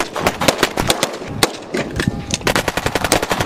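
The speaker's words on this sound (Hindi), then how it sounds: "पुलिस दस्तों की मजीद पेशकदमी मोर्चा बंद डाकों और दहशत गर्दों की जानब ऐसी शदीद मजामत फायरिंग का तबादला भी जारी" Gunfire in a police clash with bandits: rapid bursts of sharp shots and automatic fire crackle nearby in quick, uneven succession throughout.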